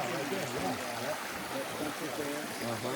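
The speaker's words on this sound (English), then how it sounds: "Creek, by the way." Creek water flowing and rushing steadily at close range on a forest hike, a continuous broadband wash with faint voices underneath.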